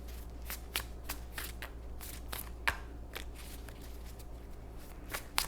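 Tarot cards are shuffled by hand in a steady series of crisp riffling flicks and soft slides, close and fairly quiet over a low constant hum, with no talking.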